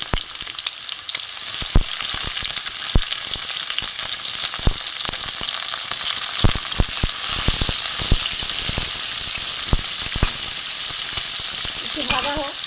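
Thin-sliced bitter gourd fries in hot oil for a bitter gourd shukto, giving a loud, continuous close sizzle. Scattered pops and crackles run through it, with a few stirring knocks near the end and no talking.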